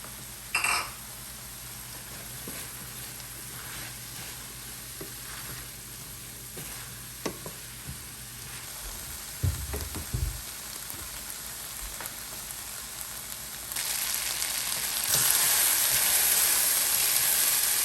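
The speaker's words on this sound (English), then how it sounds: "we are done sauteing the carrot, celery, peppers" Carrot, celery and peppers sauteing in a pan give a steady, moderate sizzle with scattered crackles and a few soft utensil knocks, growing a little louder near the end.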